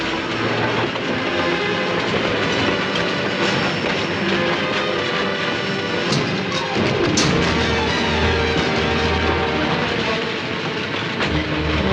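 A moving train rumbles along steadily with rolling wheel noise and faint clatter, loud and continuous for the whole stretch, with no voices.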